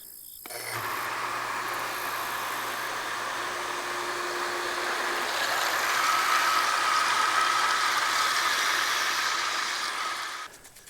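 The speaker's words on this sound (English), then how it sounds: "We'll get those plugged in, and then we'll get our pump plugged in." A solar-powered water pump draws from a pond to irrigate pasture with a steady, unbroken motor whine and hum. It runs close and constant for about ten seconds, then cuts off.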